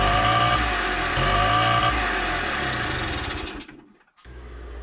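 A Honda MTX 50cc motorcycle engine revs high by itself with its carburettor just changed, a loud buzzing roar that holds, wavers, then cuts out briefly before restarting, close by with no talk.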